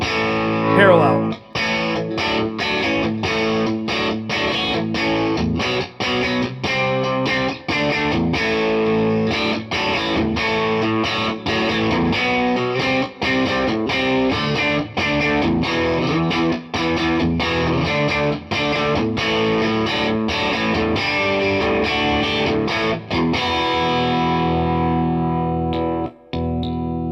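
A Fender Custom Shop '63 Jaguar electric guitar with its pickups in series-parallel plays steadily for nearly half a minute, loud and close, through distortion, chorus and other effects, strummed chords ringing with sharp attacks.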